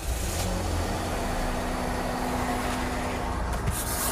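A Toyota Yaris engine cranks and catches, then runs with a steady, rough, rumbling idle, loud and close, while a voice talks briefly over it.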